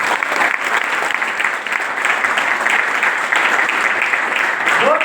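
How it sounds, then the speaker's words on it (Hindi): A large audience at a live stage event claps loudly and steadily for several seconds, a dense, continuous burst of applause with a faint crowd murmur underneath. "जोरदार क्लैपिंग हो।"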